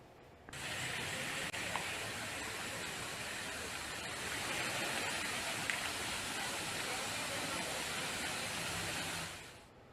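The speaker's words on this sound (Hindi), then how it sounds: "बागेश्वर में लगातार हो रही बारिश ने लोगों की परेशानियों को बढ़ा दिया है।" Steady, continuous heavy rain falls in Bageshwar, a dense even hiss that holds at one level for nearly ten seconds before fading out at the end, with no voices over it.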